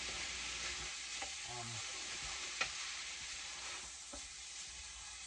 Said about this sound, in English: I'll just keep giving that a stir till everything is cooked down